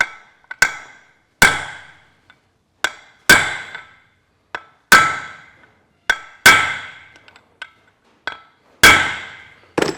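Sharp metallic hammer strikes on a punch while working on a Massey Ferguson 65 tractor final drive housing, ringing hits repeated at an uneven pace, some harder than others, with light taps in between, close by.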